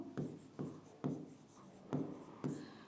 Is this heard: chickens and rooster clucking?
no